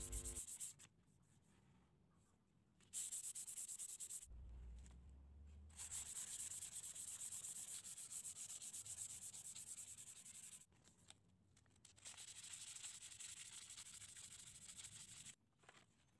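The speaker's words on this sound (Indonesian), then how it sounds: "untuk bagian luarnya kita gosok dengan amplas grade" Fine-grit sandpaper rubs by hand across the outside of a bamboo bird cage, coming in repeated back-and-forth scratchy bursts separated by short pauses, quiet and close.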